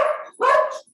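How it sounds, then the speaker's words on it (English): Two dogs barking at neighbors outdoors at a vineyard home, two close, loud barks in quick succession with a short gap between them, no talking. "Our dogs are barking at the neighbors."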